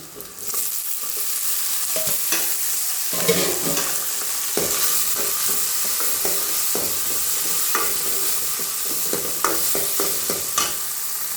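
Tomatoes sautéing in a pan for turkey berry sambar, a steady close sizzle of frying broken by repeated stirring scrapes and clicks of the spoon against the pan, with no talk.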